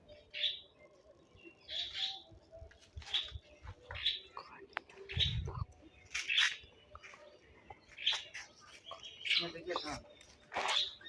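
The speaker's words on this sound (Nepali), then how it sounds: "चरा यहाँ बसिरहेछ त नि" Small birds perched close by give short, bright chirps roughly once a second, soft and repeated, while quiet voices murmur faintly underneath.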